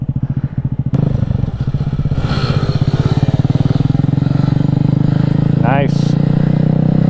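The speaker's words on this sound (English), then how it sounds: "What a weird bike." A motorcycle engine idles and runs steadily and close by with a low, even pulsing throughout, while people talk over it and a brief clatter sounds near the end.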